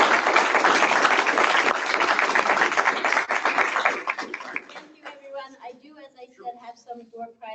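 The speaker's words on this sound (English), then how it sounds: "So if we get a big round of applause for our panelists." Audience applauding panelists at the close of a family-business succession planning session, a dense burst of clapping for about five seconds that then fades into scattered claps and a speaking voice.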